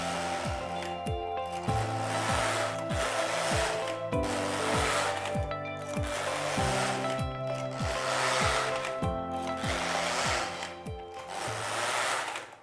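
A Passap Duomatic 80 knitting machine knits plain rows after a yarn change, its carriage sliding back and forth in steady, even strokes about once a second, loud and close, with a rattling mechanical whir on each pass and no talk.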